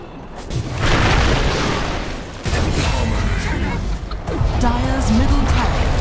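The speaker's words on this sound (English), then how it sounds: "Dire's middle tower has fallen." Dota 2 tower destruction in a game match: a loud booming crash that rumbles on, with a second impact partway through, under steady game noise and a voice speaking throughout.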